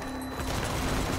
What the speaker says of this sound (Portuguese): Tá pegando tiro aqui, ó